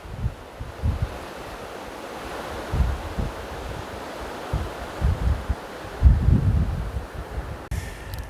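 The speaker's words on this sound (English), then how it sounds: "There's a river flowing down there. It's flowing, you can hear the water." Water flowing in a river down below a scenic viewpoint, a steady broadband rush with gusts of wind buffeting the microphone, fairly distant and continuous with no talk.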